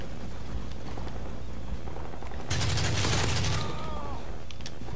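Burst of rapid automatic gunfire in the shooter game Modern Warfare 3, loud for about a second amid continuous noisy game ambience, with no talk over it.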